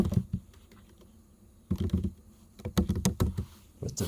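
Quick bursts of key clicks on a computer keyboard as a web address is typed, close and crisp, coming in short clusters separated by pauses.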